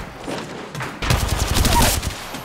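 Rapid bursts of gunfire crackle in Apex Legends, a dense fusillade of shots that grows louder and busier after the first second, sounding somewhat distant yet intense.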